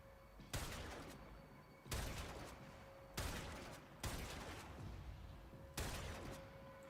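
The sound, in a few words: gunfire in the video game Warframe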